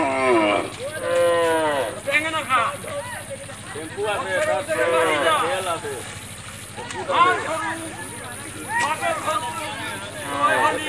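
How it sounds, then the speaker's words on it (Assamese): Cattle mooing repeatedly during a Bihu cow-bathing festival in Karimganj, Assam, with long drawn lowing calls close by over a constant background hum. "গৰু"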